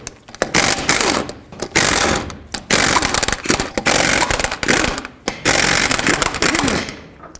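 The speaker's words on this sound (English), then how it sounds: "take off all 6 of your lug nuts." An impact wrench removing the 22mm lug nuts from a front wheel of a 1999-2007 GMC Sierra pickup, loud and close, in repeated rattling bursts of about a second with brief pauses between them.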